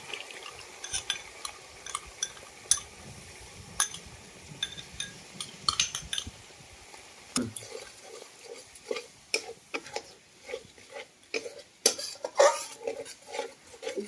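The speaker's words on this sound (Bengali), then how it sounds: "দই দেওয়ার সময় একটু এরকমভাবে নাড়তে হবে যাতে না দইটা কেটে যায়" Sour yogurt being stirred into fried masala in a pan, a steady run of close spoon scrapes and clinks against the metal with a soft sizzle underneath, and no voice.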